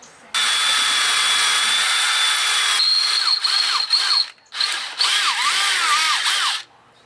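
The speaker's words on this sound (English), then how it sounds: "So let's get a hole drilled in there." A power drill bores a hole in an Evinrude 25 hp outboard motor during a push-button start conversion, with a loud, steady high whine that dips and restarts in a few bursts before stopping.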